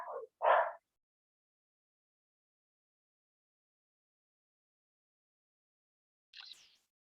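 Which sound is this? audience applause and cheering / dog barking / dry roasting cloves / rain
dog barking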